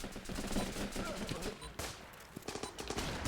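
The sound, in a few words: gunfire in the video game Running With Rifles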